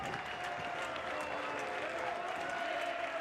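A college baseball crowd at the Round Rock Classic, Southern Miss vs Oregon State, applauds and cheers in a dense, sustained roar that stays steady and loud throughout, with a commentator's voice faintly mixed underneath.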